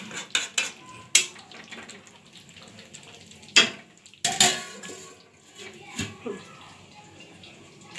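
Cooked meat in a pot is cut with a metal spatula, giving a few sharp scraping clinks spread over quiet gaps and light sizzling.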